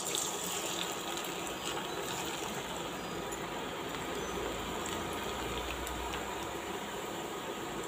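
Potato murukku dough is pressed into hot oil and fries with a continuous, dense sizzle and hiss. The bubbling stays steady and fairly soft for the whole stretch.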